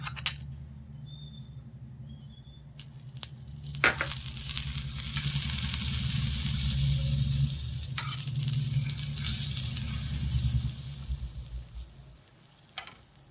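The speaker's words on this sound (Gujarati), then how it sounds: "હવે તેને ફોલ્ડ કરી અને આપણે તવી ઉપર શેકી લઈએ। તવી ઉપર બટર એડ કરીને ક્રિસ્પી શેકી લઈએ।" A folded roti taco sizzles in butter on a tava griddle, with a steady crackling hiss that swells after a few clanks of a spatula and then fades toward the end, heard up close.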